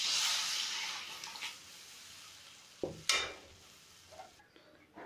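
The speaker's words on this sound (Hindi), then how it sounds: "अब दाल को हम इसमें डाल देंगे।" Ground chana dal paste is poured into a kadhi pot with a soft sizzle and stirring, a wet splash and clunk partway through, then quieter stirring scrapes, close up and without talk.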